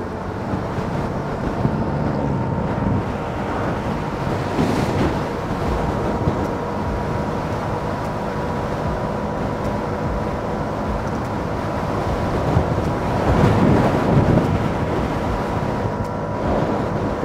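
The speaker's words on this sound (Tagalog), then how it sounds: "grabe lakas ang hangin, para kung hinihipan" Strong wind buffets the microphone at a beach, a dense continuous roar with gusts swelling loudest near the end and no voices.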